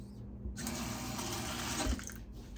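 Tap water runs steadily over small medley tomatoes being washed in a sink, a continuous close splashing hiss with a brief knock near the end.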